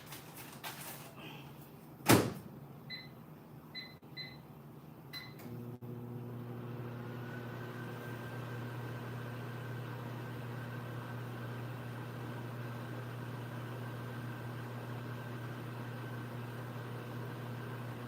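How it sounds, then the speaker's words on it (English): A microwave oven hums steadily after a door clunk and several short beeps, the even drone running on for a long stretch with no talk. "I said I was gonna put this in the microwave."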